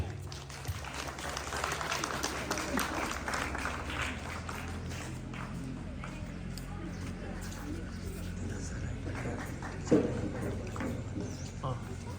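Applause from the school audience for a newly named School Prefect at a senior secondary school investiture ceremony, a steady wash of clapping lasting throughout at moderate level, with a brief louder accent near the end.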